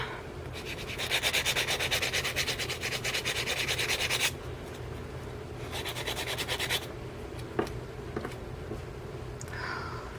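Acrylic nails being filed, a close rapid rasping in two bursts of strokes, the first about three seconds long and the second shorter, followed by quieter taps and handling.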